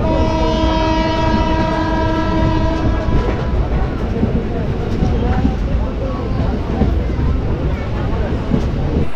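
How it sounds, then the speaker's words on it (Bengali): A special train to Digha pulling out of a station at night, a loud sustained horn blast over heavy rumbling, followed by rolling wheel clatter close by, with voices mixed in. "এবার ট্রেন ছাড়বে, চলুন।"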